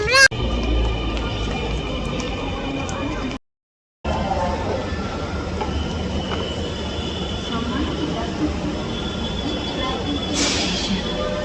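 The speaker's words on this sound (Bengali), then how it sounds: "অনেক দিন পরে আবার মেট্রোতে উঠছি ভালোই লাগছে" Continuous rumbling hum of a metro train in motion, with a brief cut to silence and a faint high squeal near the end.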